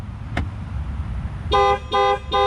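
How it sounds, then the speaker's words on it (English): A Jaguar F-Type's alarm sounding in three loud, steady horn-like honks, each lasting about half a second, close by, after a brief click. "the alarm did go off like I mentioned"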